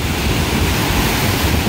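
Sea waves wash onto a beach in Nha Trang, Vietnam, just after a storm, a loud broadband roar mixed with wind buffeting the microphone, steady and close, with no voices.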